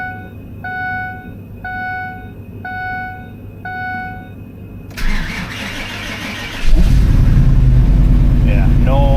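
An old gas truck with a 5.4 engine starts in cold weather: several evenly spaced warning chimes, then the starter cranks and the engine catches and roars loudly up close.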